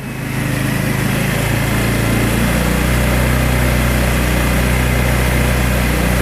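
A small engine fitted with an upgraded 11-pole stator runs steadily at about 4,000 RPM, a loud, even, continuous drone with no change in pitch throughout.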